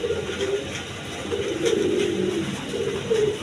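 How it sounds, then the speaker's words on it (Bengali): A high-flying pigeon with red markings coos in a repeated low, throaty rumble, close by and fairly clear over a steady noisy background, with no talking. "এটা হলো হাই ফ্লাইং কবুতর"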